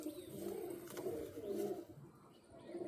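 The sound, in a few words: pigeon cooing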